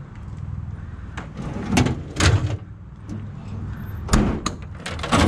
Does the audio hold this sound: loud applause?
no